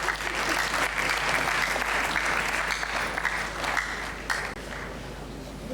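Sustained audience applause at a conference fills the room, a dense steady wash of many hands clapping that holds strong throughout, with a slight dip near the end.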